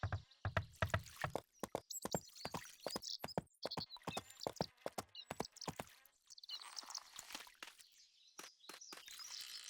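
Horse hooves clip-clop in a steady, fairly close rhythm in the Barbie Horse Adventures video game, with a brief whinny and light bird chirps in the background and no one talking.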